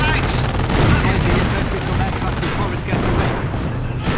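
Tank and gunfire combat in the World War II strategy game Company of Heroes, with Jagdpanthers firing: dense continuous rattling gunfire and booms, loud and unbroken, with a voice talking over it.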